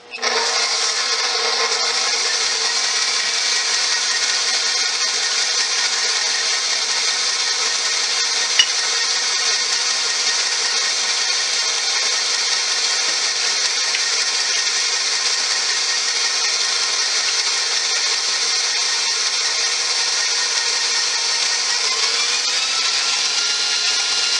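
A kitchen mixer steadily beats an egg into homemade cinnamon roll dough, a constant whirring drone that holds unbroken and loud for the whole stretch, with no voices.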